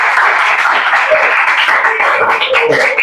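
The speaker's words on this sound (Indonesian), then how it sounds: "tepuk tangan untuk teman" A group claps and applauds steadily for a few seconds after a classroom group discussion, loud and close, with voices mixed in.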